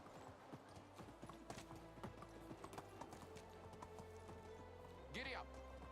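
Horse hooves clip-clop steadily in a medieval village game while riding, a brisk rhythm under background music, with a short whinny near the end.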